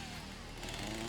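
A chainsaw from the video game Satisfactory revs continuously with a buzzing, gritty engine drone, loud and steady for about a second with no talk over it.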